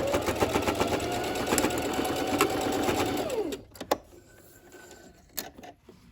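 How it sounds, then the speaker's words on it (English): A sewing machine runs a rapid, steady edge stitch along a quilted coat for several seconds, loud and close, then stops, followed by a few handling clicks and rustles. "I'll just run the edge stitching right along there."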